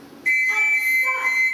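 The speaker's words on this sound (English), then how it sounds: "Everyone in this house answers to a whistle." A single shrill whistle blast, sustained and steady, sounds loud and close in a stage production of The Sound of Music, used as a signal to call the household.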